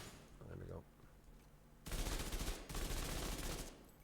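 An automatic rifle with a 52-round magazine and 900 RPM fire rate rattles off rapid bursts in The Division 2 on easy difficulty; two loud sustained volleys with a brief break between them, preceded by quieter background game sounds.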